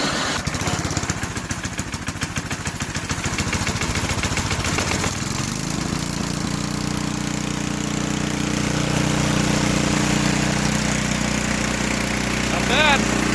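A vintage John Deere 726 snowblower engine sputters through a choked start, then catches and settles into a steady, loud, close-up running drone that holds to the end.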